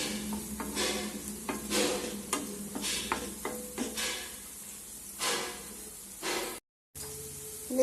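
Ginger, garlic, onion and fennel seeds fry in a pan while being stirred, giving a close sizzle broken by repeated scraping strokes and clacks, with a short dropout near the end.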